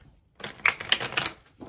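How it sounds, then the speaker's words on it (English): A deck of tarot cards is shuffled by hand, close and quiet. After a brief silence come a few quick, crisp clicking bursts in a rapid ripple, then a final small flick. "I already shuffled, but I'll shuffle again just so you can see"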